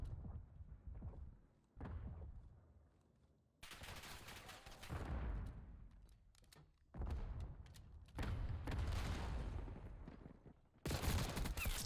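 Gunfire in a Call of Duty match, bursts of rapid automatic shots and thuds in several loud volleys separated by quieter gaps, mixed down in the game audio.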